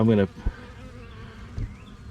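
Honeybees buzz around a hive in a soft, continuous hum, with a short voice at the start and a couple of light knocks.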